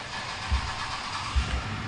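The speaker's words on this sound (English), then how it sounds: "my neighbor just started up his diesel in the alleyway" A neighbor's diesel engine idles in an alleyway, a steady broadband rumble with a couple of low thumps, moderately loud and continuous with no talk.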